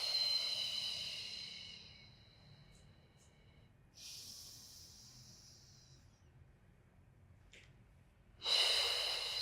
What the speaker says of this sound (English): we exhale through the mouth, working on our diaphragmatic breath